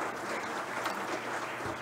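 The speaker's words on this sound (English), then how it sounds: "And finally, Nicolas Adriana Costa, an applause for him." Applause from an audience at the closing of a DNS hackathon, a soft, steady wash of clapping heard from some distance with no talk over it.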